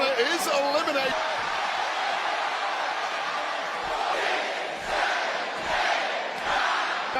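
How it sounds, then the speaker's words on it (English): A wrestling arena crowd at a WWE Raw event roars and chants in loud, rhythmic waves, filling the space with dense, continuous noise. "The crowd's chanting AJ Styles"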